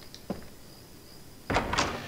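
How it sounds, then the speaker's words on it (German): A door opens in The Last Story video game, with a faint knock-like thud early on, then a louder sliding swish and clunk near the end against a quiet background. "Klopf und Tür auf."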